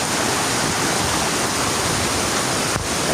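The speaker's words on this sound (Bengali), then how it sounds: "কি একটা বৃষ্টি হইতেছে, একদম ফাটাই দিতেছে" Heavy rain pours down in a steady, dense roar during a fierce Kalbaishakhi storm, a loud continuous wash of water with no let-up and no voices.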